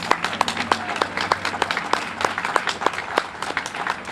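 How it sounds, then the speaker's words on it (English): Applause from a crowd at a flag-raising ceremony: steady, close clapping that carries on through the whole stretch, with a few sharper individual claps standing out above the rest. "I say we give him another round of applause."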